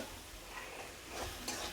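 Spiced pointed gourd cooked with rice is stirred in a pan with a soft, steady sizzle, and a few scraping strokes grow louder toward the end. No one speaks.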